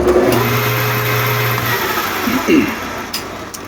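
Lathe's AC capacitor-start motor hums steadily, then falters and surges unevenly as it hesitates while starting, with a mechanical whir and a few clicks near the end; fairly loud and close.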